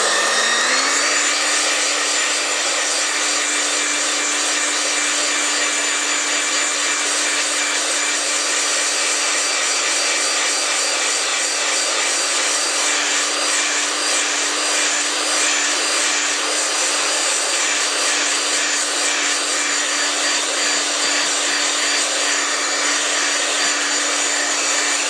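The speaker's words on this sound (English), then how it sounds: "I'm actually going to use the hairdryer now to actually just dry the Sharpie on it" A hairdryer blows continuously at close range over a prop knife coated in Sharpie ink, a steady loud whooshing hum with a constant motor whine and no pauses.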